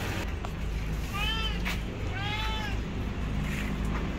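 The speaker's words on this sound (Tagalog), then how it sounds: "Yan yung pusa namin guys" A pet cat meows twice, clear and fairly close, over steady outdoor background rumble and light hiss.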